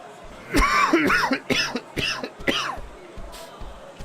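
A person coughs repeatedly and harshly, around six or seven close, loud bursts in quick succession, then tapers off into fainter coughs, with no speech.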